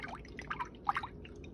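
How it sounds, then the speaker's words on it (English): A paintbrush is rinsed in water during felt painting, giving quiet, brief drips and splashes in a few soft bursts, with no voices. "what I'm doing now is just rinsing my brush off."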